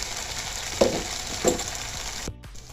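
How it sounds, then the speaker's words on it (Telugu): Curry leaves with green and dry chilies frying in hot oil, a steady, close sizzle with a couple of louder crackling pops before a sudden drop near the end. "ఇలా కొంచెం నూనెలో ఫ్రై అయిన తర్వాత"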